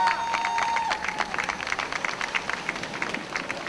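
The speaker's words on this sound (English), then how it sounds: "let's give Lynn a big round of applause for putting this thing together" Outdoor crowd at a marijuana march rally claps and applauds in a steady, fairly distant patter of many hands, with a brief faint tone near the start.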